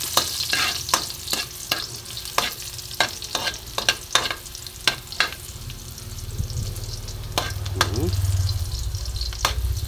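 Onions fry in a pan while a utensil scrapes and knocks against it in irregular strokes, bright clicks over a continuous sizzle, close by, with a low hum underneath and no talking.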